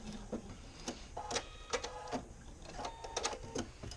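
A sewing machine stitches over the end of a pants seam with quick, faint mechanical clicks and whirs in short, uneven bursts.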